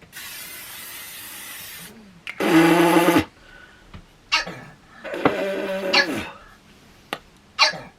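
A dog gives several sharp barks at intervals, mixed with loud bursts of hissing spray, all fairly close.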